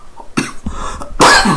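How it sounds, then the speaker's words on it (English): A person coughs in two or three harsh bursts, close and loud, with the last one the longest and strongest. "I'm still coughing a bit"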